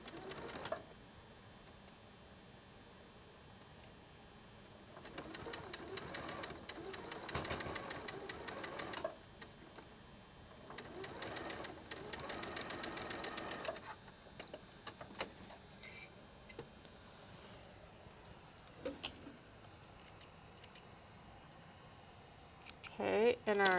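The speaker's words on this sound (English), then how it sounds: "Now we're going to sew this." A sewing machine stitches quilt pieces with a scant quarter-inch seam, running in several bursts of rapid mechanical whirring, close and moderately loud, with quiet pauses between runs.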